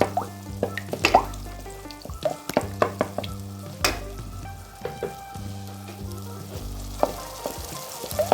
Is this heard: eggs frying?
yes